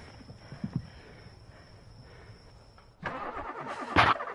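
A car engine starts up in the horror video game The Final Girl: after a quiet, faintly noisy stretch, the engine catches abruptly and runs on at moderate loudness.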